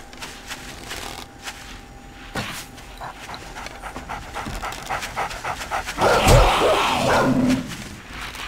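A dog in the survival game 7 Days to Die pants in quick repeated breaths, then breaks into a burst of loud barking and yipping near the end.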